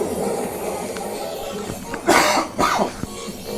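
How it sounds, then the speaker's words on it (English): Two sharp, close coughs from a person with a lingering cold rise out of low background noise. "Excuse me, my cough just does not want to go away."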